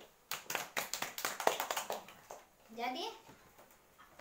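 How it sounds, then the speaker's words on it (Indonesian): A classroom gives applause during a microteaching lesson on plant growth: a burst of rhythmic clapping from a group of students, fairly close, followed by children's voices talking. "Kita beri aplaus."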